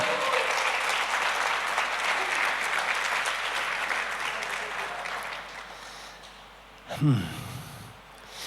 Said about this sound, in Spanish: Dale el mejor aplauso al Señor.